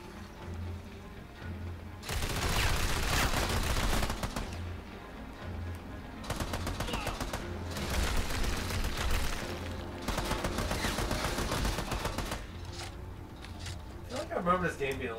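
Bursts of gunfire in Army of Two as an enemy is shot, coming in several dense stretches of rapid shots separated by quieter gaps, with someone talking faintly beneath the game noise.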